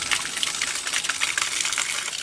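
Water gushes steadily from a newly relocated outdoor faucet on the side of a house, a loud continuous hissing splash that holds even for a couple of seconds with no voices.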